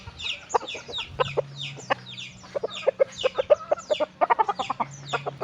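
A chicken clucks rapidly and repeatedly while being bathed, close up, in a busy run of short sharp clucks over faint background noise.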